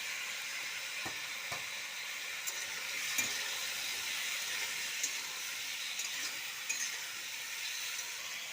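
Potatoes fry in a pan with salt and turmeric, a steady bright sizzle that runs throughout, broken by occasional faint taps of a utensil against the pan.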